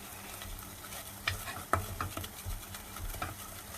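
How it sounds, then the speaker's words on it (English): Flour cooking off in a pan at the start of a sauce for a roasted vegetable pasta bake, with soft sizzling under intermittent scraping stirs and light taps of the utensil against the pan, close and fairly quiet. "So all you're doing is cooking the flour off, so you don't get that sort of floury taste."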